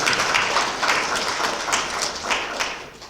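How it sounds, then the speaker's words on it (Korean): An audience at a provincial council chairs' meeting claps steadily, a dense, even patter of many hands held at a consistent level throughout. "큰 박수 보내주시기 바랍니다"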